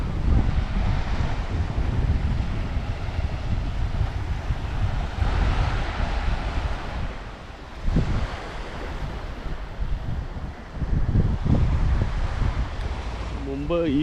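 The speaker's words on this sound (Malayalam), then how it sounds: "ഇവിടെ നിന്ന് നീക്കഴിഞ്ഞാൽ കാണുന്നതാണ് അതിമനോഹരമായ കടൽ ഈ ഭാഗത്ത്" Waves wash continuously against the shore of the Gulf of Mannar with a low rumble, buffeted by strong wind gusting across the microphone.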